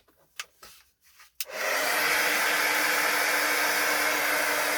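After a few soft clicks and handling noises, a hair dryer switches on and blows steadily and loudly up close, drying a wet watercolor painting of a pear on paper.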